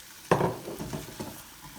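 About 300 grams of potatoes drop into spices frying in a pan over low to medium heat, setting off a sudden loud sizzle that fades into a steady crackle with light stirring.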